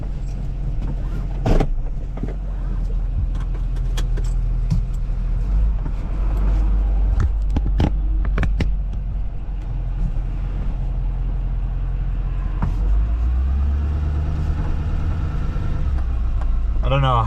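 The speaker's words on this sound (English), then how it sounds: "you basically hear the engine, the transmission, and all the road noise coming right through here" Inside a moving 2020 Chevy Silverado 6500 truck, engine drone, transmission whine and road noise rumble continuously, with intermittent clicks and rattles and a rising whine near the end.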